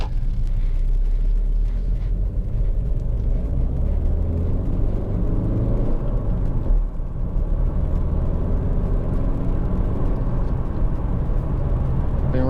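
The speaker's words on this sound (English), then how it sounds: "it's just really to show you the car in operation" A Ford Focus 1.6 TDCi Titanium X diesel hatchback on the road gives a steady low rumble of engine and tyre noise that holds evenly throughout, with no talking over it.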